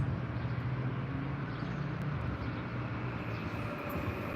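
A steady low rumble of a large train idling or rolling slowly at Hua Lamphong railway station in Bangkok, continuous and fairly close, with a constant mechanical drone.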